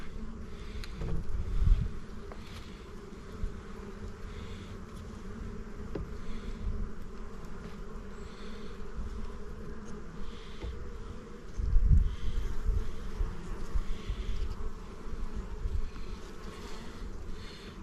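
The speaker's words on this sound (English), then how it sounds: "Another full box of bees here." Honeybees buzzing in an opened hive box during an early-spring inspection, a dense continuous hum close to the frames, swelling louder at moments as bees lift off.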